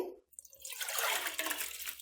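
Soaked golden sella rice tipped into a cooking pot together with its soaking water for boiled biryani rice, a close, steady watery pour and splash lasting a couple of seconds.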